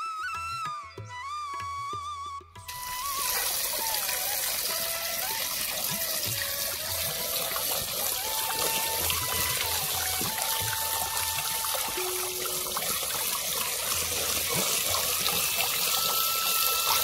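Mangoes are washed in running water, a steady close trickle and splash from a tap filling a vessel, continuous and alone after a brief quieter start.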